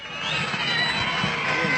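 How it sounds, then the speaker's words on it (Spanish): Crowd at a political rally for an Alianza País movement leader, a dense, steady wash of applause and cheering that swells after a quiet start and holds loud throughout, with no speech over it. "Lo recibimos con un fuerte aplauso"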